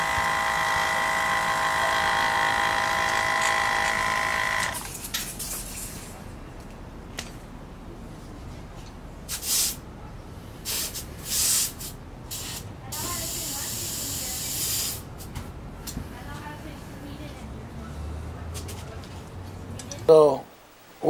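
A Slime 12V tire compressor pumping up a tire: a loud steady buzzing hiss for the first few seconds, then quieter running with brief bursts, and a person talking over it.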